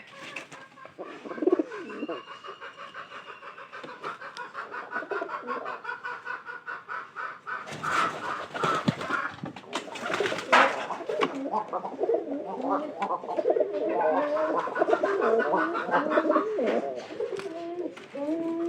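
Pigeons in a loft coo in low, throaty, repeated calls close by, overlapping one another, with bursts of wing flutter and scuffling in the middle, and a voice speaking faintly at moments.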